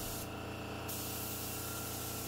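A brief hiss of chalk paint sprayed from a 3M Accuspray gun, lasting just over half a second, close and steady against a constant background drone.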